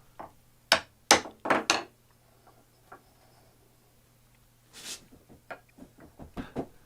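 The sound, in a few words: tapping vise end cap into place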